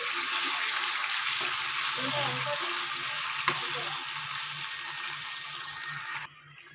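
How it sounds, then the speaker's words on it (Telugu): Ginger-garlic paste fries in a pan with a loud, continuous hissing sizzle that holds steady, then cuts off abruptly near the end, leaving a faint quiet tail. "ఈ అల్లం వెల్లుల్లి పేస్ట్ అనేది పచ్చి వాసన పోయేంత వరకు కొద్దిగా వేయించుకోవాలి"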